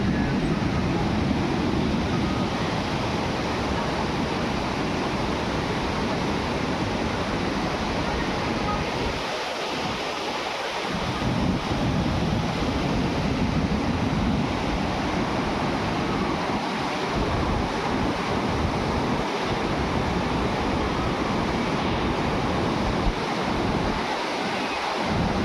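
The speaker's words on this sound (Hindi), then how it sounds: "दोस्तों, ये है भागीरथी रिवर" The Bhagirathi river rushes past Devprayag with a loud, steady roar of churning water that holds unbroken throughout, with wind buffeting the microphone.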